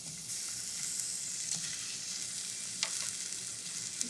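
Food sizzles steadily in a hot pan, a bright continuous hiss broken by a few soft clicks and scrapes of stirring.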